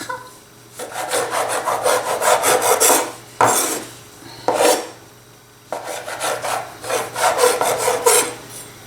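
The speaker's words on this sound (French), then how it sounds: "je vais la couper avec un couteau dans des bandelettes d'à peu près 2 cm" A knife cuts flattened pizza dough into strips about 2 cm wide, making close, scraping rasps in bursts of rapid strokes separated by short pauses, with no talking.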